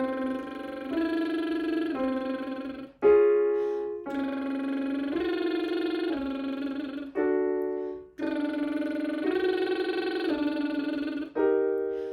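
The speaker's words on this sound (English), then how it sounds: "I really like to do a 3-note lip trill with the interval of a third" Voices do a buzzing lip trill vocal exercise together, each phrase moving through three notes a third apart. Three repeated phrases with short breaths between them, close and sustained.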